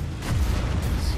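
A tank cannon fires in War Thunder, a single deep, loud boom that rumbles and sustains through the whole short moment, heavy low-end blast without voices.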